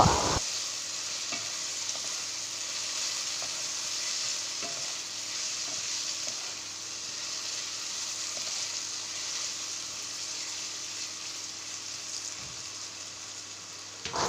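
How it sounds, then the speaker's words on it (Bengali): Oil sizzles continuously as potatoes fry in a pan, a steady crackling hiss with occasional stirring clicks. "এই যে দেখতে পাচ্ছ আমার আলু ভাজা প্রায় এদিকে হয়েই এসছে"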